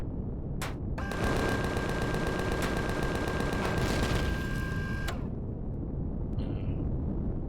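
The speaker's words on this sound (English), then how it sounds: "Shooting at me. Well, we'll be back. I'm also getting ground fire." Rapid gunfire from ground enemies in the space survival game Empyrion Galactic Survival, a dense burst of shots lasting about four seconds, loud and close, with a single sharp report just before it and quiet afterward.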